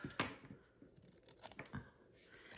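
Scissors trimming cardstock for a handmade greeting card, with a few quiet close snips and paper rustles.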